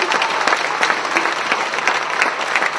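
Loud, dense applause from a concert audience in Lviv for a Belgian singer after a Ukrainian romance, many hands clapping steadily and close without pause.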